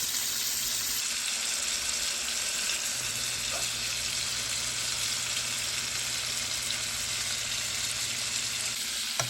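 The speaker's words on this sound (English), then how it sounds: "So we're gonna go on and sear these for a minute and get them out." Shrimp searing in a pan on high heat, a steady loud hissing sizzle that holds throughout with a low hum beneath, no talking.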